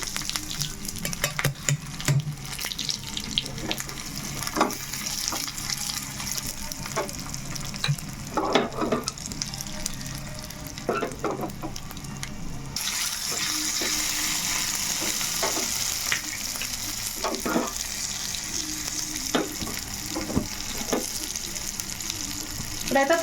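Curry leaves tempering in hot oil for a tomato chutney crackle and sizzle steadily up close, with scattered sharp pops and stirring clinks, and a brighter, hissier burst partway through.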